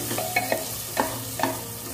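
Onion and garlic masala fries in a pan under a steady sizzle while a spoon scrapes and stirs it in about four distinct knocks, near and clear with no voices.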